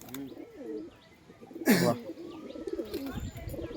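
A pigeon coos once in a brief, fairly loud burst, with other soft bird calls and faint background voices around it.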